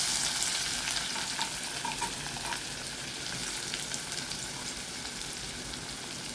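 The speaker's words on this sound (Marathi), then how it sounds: "सगळा कांदा घातला" Onion frying in a pan with mustard seeds and cumin, a soft, continuous sizzle and crackle heard close up, steady and alone without talk.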